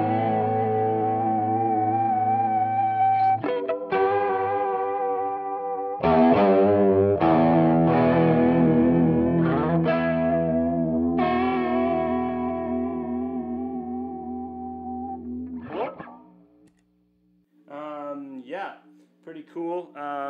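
An electric guitar runs through Ibanez Bi-Mode Chorus and Sparkle Drive pedals, giving loud, distorted and shimmering chorused chords and sustained notes, then a brief drop to near silence before a few picked notes.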